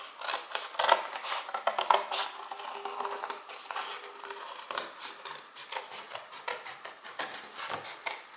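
Scissors snip through white card to cut out a circle, producing a close run of crisp, rasping cuts in an uneven rhythm, fairly quiet and with no talking.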